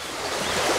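Water in a small creek rushes steadily, a continuous broadband wash heard close and fairly loud without pause or speech.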